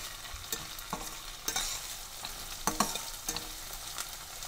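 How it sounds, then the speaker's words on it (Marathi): Crushed garlic, green chilli and ginger sautéing in a kadhai with fried onion, giving a steady close sizzle broken by scraping stirs of a spatula, with no voices. "ठेचलेले लसूण, हिरवी मिरची व आले परतून घेऊया।"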